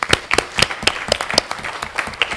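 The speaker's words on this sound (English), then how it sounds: "on va remercier Estelle avec des applaudissements" A small audience at an annual meeting gives brief applause, a handful of distinct, fairly close claps in an uneven rhythm with no dense crowd wash.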